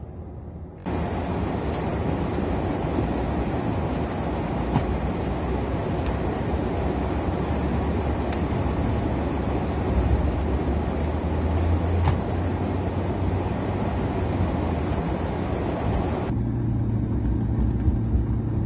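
Car driving into town, a steady low rumble of engine and road noise that runs continuously and stays fairly loud throughout, with no talking.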